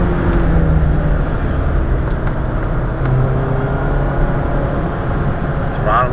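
A 2008 Mazda Miata MX-5 NC engine accelerating heard from inside the cabin, a steady droning hum with road noise, loud and continuous without talk.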